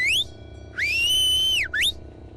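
Three clear human whistles: a short rising one, a long sustained note, then a quick up-sweep, loud over a low steady background hum.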